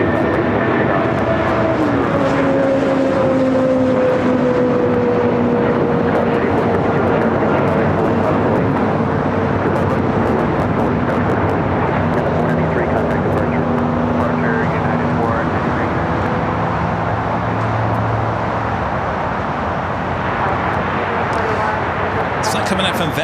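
Airplanes at Los Angeles LAX airport, a sustained jet engine roar with shifting whine tones as an aircraft passes, loud and close, with a voice talking over it.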